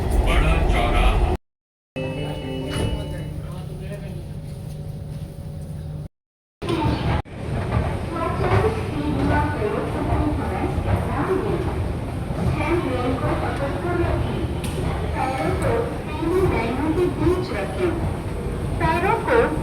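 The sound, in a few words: metro train running between stations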